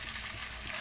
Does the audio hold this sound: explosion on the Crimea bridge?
no